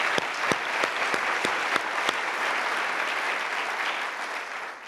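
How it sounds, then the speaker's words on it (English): Conference audience bursts into a round of applause, dense clapping from a packed room with a few sharp, distinct claps standing out near the start, holding steady for several seconds before beginning to thin. "Please give them a round of applause."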